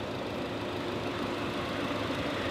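The 2.0-liter four-cylinder engine of a 2015 Nissan NV200 van idles steadily, a faint, even mechanical hum that keeps a constant level throughout, with no talk over it.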